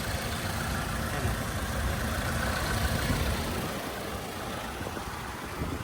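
A Toyota Land Cruiser Prado with a 2.7 litre engine idles at a used car market, giving a steady low, even rumble that holds throughout without talk.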